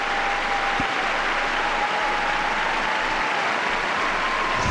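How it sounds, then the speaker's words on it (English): Thunderous applause from a packed crowd of about 6,000 in a figure skating arena at a world championship pairs event, a loud, continuous roar of clapping and cheering that stays dense and unbroken throughout. "Thunderous applause here."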